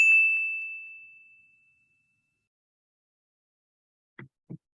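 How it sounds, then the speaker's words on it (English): A notification bell sound effect rings once with a bright ding that decays over about two seconds, followed by silence and two faint soft taps. "hit that notification bell"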